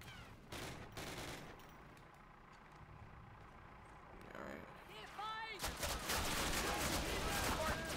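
Rapid gunfire and explosions from a World War II battle in Call of Duty, set at Ste. Mere Eglise, with bursts swelling louder toward the end amid speech-like game chatter.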